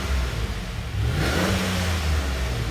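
A 2009 Chevy Silverado with the 5.3 V8 revs through its stock muffler, a fairly quiet, muffled engine note that swells upward partway through, close and steady without talk.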